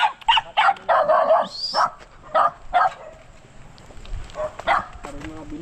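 A dog barks repeatedly in short, sharp bursts close by at a piglet farm, with a few more barks after a brief pause.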